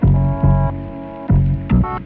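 A sampled bass in a hip-hop beat runs through the Decapitator saturation distortion plugin, giving thick, heavy repeated low notes in a looping rhythm under a melodic sample, loud and without voices.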